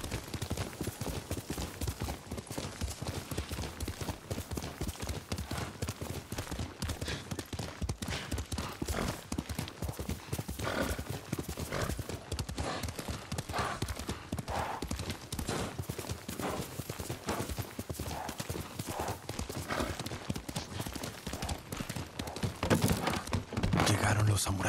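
A horse gallops steadily in Ghost of Tsushima, its hooves pounding in a fast, even clip-clop rhythm that runs the whole time, close and prominent, with a faint whinny possible and some muffled voices beneath.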